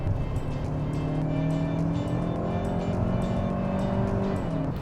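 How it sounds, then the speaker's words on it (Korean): A new Hyundai Santa Fe in sport mode accelerates to overtake from 80 km/h, heard from inside the cabin as a steady engine drone rising gradually in pitch over road and tire noise. "스포츠 모드를 넣고 여기서 80에서 추월 가속했을 때"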